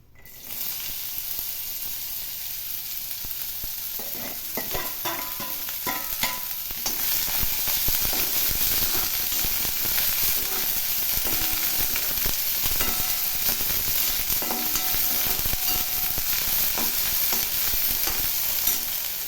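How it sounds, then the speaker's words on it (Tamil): Snake gourd sautés in hot oil for a chutney, a continuous close sizzle with stirring that starts abruptly and grows denser and louder about a third of the way through, then holds steady. "இப்போ இந்த எண்ணெயிலே நம்ம புடலங்காயை நல்லா வதக்கிடலாம்."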